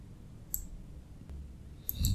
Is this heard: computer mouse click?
yes